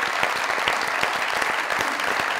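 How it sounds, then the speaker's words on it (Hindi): Loud, dense audience applause from a comedy talk show studio crowd, steady rapid clapping filling the whole stretch with no talk over it. "जोरदार तालियां हो।"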